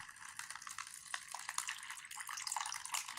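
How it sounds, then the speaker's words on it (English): Water splashes and trickles steadily into the bag of an MRE flameless ration heater, filling it to the fill line outdoors, a soft, close, continuous pouring with no talking. "You're going to fill this with water up to the heater, to the fill line."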